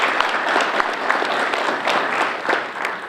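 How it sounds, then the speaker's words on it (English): Brief, moderately loud applause from the audience at a Rotary Club meeting, with scattered individual claps rising and falling over a few seconds. "That deserves a round of applause"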